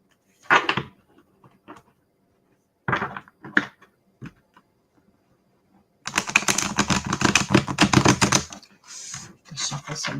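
A deck of cards with colored edges is shuffled in a riffle, a dense burst of rapid flutters and snaps at close range after a few scattered soft taps and handling sounds.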